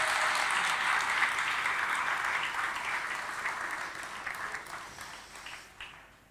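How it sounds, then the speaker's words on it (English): Audience applause at an awards ceremony, a steady dense wash of clapping from a crowd that holds strong for several seconds, then gradually thins and fades out at the end. "please give a big round of applause to JDDK"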